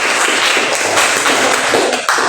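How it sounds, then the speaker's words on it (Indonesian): Classmates clapping for a student group in a high school classroom, a dense steady patter of hand claps that runs close and loud for a couple of seconds. "Oke, tepuk tangan untuk kelompok"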